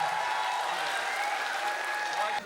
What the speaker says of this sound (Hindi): बुलाइए जोरदार बड़ी तालियों के साथ